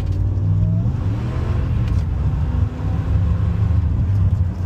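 A RAM truck's 5.7 Hemi V8 fitted with an Edelbrock supercharger revs loudly and steadily, its engine note rising and falling close by with no talking.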